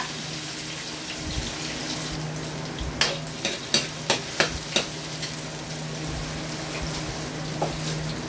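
Ginger slices frying in hot cooking oil for bopis, a steady broadband sizzle running throughout, with a short burst of sharper crackles and pops near the middle before settling back to an even hiss.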